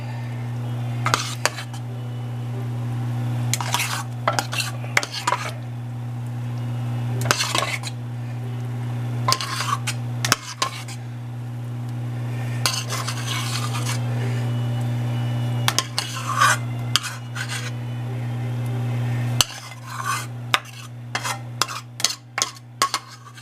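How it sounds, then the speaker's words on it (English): Macaroni and cheese casserole is stirred in a baking dish, giving intermittent scraping clinks and soft knocks of a utensil. They sit over a steady low kitchen hum, with denser clatter toward the end. "we're stirring it up, and you want to make sure that all goes in there"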